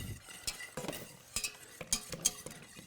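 A whisk scrapes and clinks against a pot in short, uneven strokes, close and fairly quiet, with occasional sharper metallic taps.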